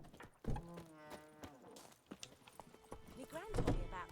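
Horse hooves clop in a steady rhythm across The Witcher 3's countryside, moderately close, while voices talk over them throughout.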